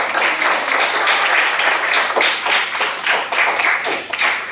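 Classmates applaud in a classroom, a brisk, close burst of hand clapping with individual claps audible, steady for a few seconds.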